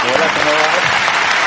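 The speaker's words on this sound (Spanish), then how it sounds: "Un aplauso para él." Studio audience on a talk show applauds a guest's arrival with dense, steady clapping throughout, mixed with a few voices underneath.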